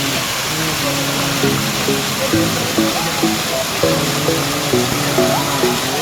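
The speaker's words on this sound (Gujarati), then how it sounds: "વોટરફોલ બહુ જોરદાર છે." Steady roar of a waterfall at Mussoorie hill station fills the scene, with a person's voice talking over the rushing water.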